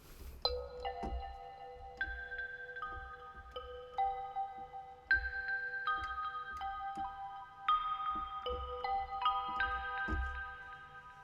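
Bright sampled bell and mallet notes ring out one after another in a twinkly melodic run, each note sustaining and overlapping the next.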